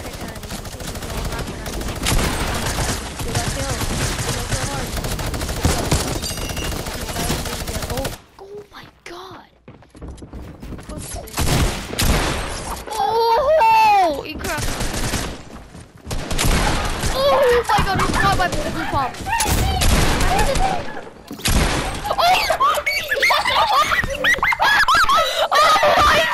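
Gunfire in the Fortnite video game: rapid bursts and repeated shots, loud and close, with a brief lull in the middle and a player talking over parts of the exchange.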